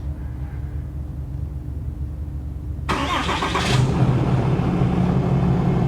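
A Ford Mustang cold-starts: a low idle rumble from another running vehicle, then a sharp crank and catch at about three seconds, settling into a loud, steady, rough idle that continues to the end.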